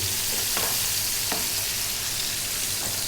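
Onion and garlic frying in a pan, giving a loud, steady close-up sizzle with a few soft stirring scrapes.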